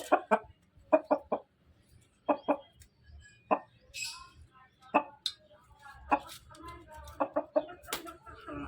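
Fighting roosters cluck and squawk in short bursts nearby, some calls clustered in quick runs, with quiet gaps between.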